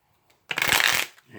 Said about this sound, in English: And again, I do 3 or 4 shuffles.